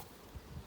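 Honey bees inside a 14x12 nuc hive box buzz in a close, dense drone, a brief continuous hum with slight swells.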